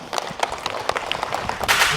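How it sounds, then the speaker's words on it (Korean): An audience claps for Jo Ji-hoon, a preliminary candidate for mayor of Jeonju, with a scattered patter of hands that swells slightly toward the end, close and moderately loud. "박수 부탁드립니다"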